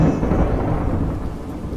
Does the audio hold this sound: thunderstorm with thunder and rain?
yes